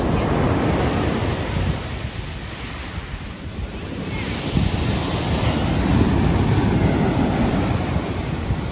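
Sea waves wash onto the shore at Glass Bay in Vladivostok, a steady, loud roar of surf with wind buffeting the microphone throughout.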